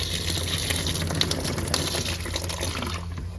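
Water gushes steadily from the drain hose of a Whirlpool water softener, a continuous close splashing flow that tapers off at the very end, with no talk.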